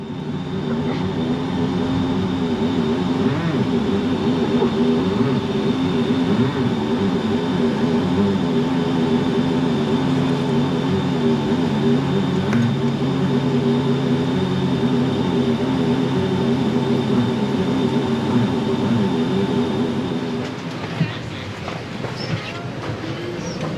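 Steady, loud cabin drone of a Delta Boeing 757-200 jet airliner in flight from Chicago to Atlanta, heard from economy class as a constant engine roar with a faint whine, shifting slightly near the end.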